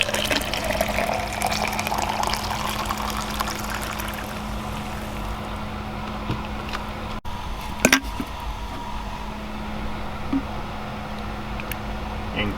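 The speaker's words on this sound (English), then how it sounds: "and we will pour us a cup." Coffee pouring and filling a cup with a steady low hum underneath, a couple of brief clinks midway, no clear speech.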